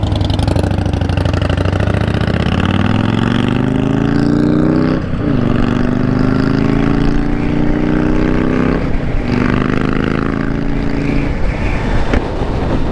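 A 2020 Harley-Davidson LiveWire electric motorcycle pulls away with a loud, rising electric whine that climbs in pitch, dips twice, and rises again over steady wind rush.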